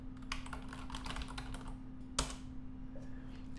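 Fingers type SQL LocalDB commands on a computer keyboard in quick bursts of clicky keystrokes, close up, with one louder key strike near the middle.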